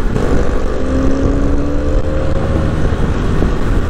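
A Benelli 502C motorcycle engine under way while riding, a continuous loud drone with a steady rising pitch and rushing wind noise, close and uninterrupted.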